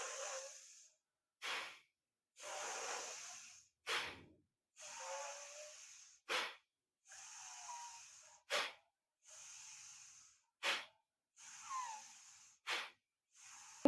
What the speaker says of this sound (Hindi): तो ये था भस्त्रिका प्राणायाम